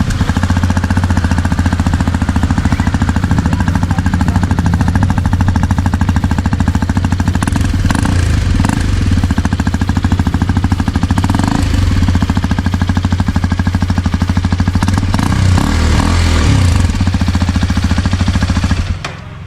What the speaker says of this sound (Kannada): ಸೊ ಗಾಡಿಯ ಸೌಂಡ್ ಕೇಳೋಣ